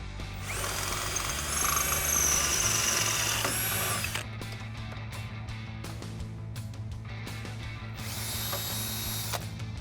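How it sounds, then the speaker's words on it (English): A power drill widening bolt holes for a Jeep Wrangler TJ lift kit whines at high speed in two long bursts, with rattling and clicking between them; it is loud and close. "and a drill, and we can go ahead and widen those holes"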